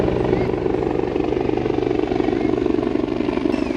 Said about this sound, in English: Oh, helicopter there.